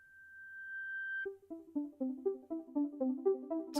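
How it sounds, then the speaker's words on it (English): Synth notes bouncing through a long ping-pong delay, a held tone breaking into a rhythmic cascade of repeating echoed notes that overlap and trail off. "Giving us that really kind of ping pong sound."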